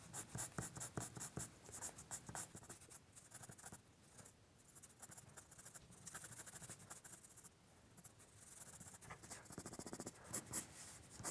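Graphite pencil shading across paper, strokes pulled outward from the darkest area and fading away: a steady close-up scratching with rapid rhythmic strokes that ease and then pick up again. No one speaks.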